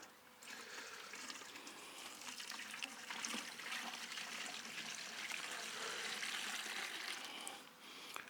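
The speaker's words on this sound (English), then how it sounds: "I'm just going to put some water in there." Water poured into a container in a garden allotment, a continuous soft trickling and splashing stream lasting several seconds, faint and steady with no talking.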